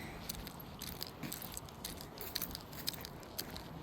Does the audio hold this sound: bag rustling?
yes